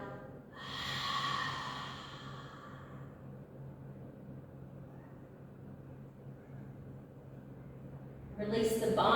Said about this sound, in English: let out an extra exhale through an open mouth